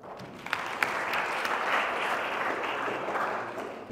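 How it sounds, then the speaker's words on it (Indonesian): Students in a university macroeconomics and business-model class applaud together, a soft, even wash of clapping from a room audience that swells briefly and then fades. "Tepuk tangan."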